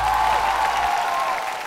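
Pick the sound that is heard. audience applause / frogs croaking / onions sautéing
audience applause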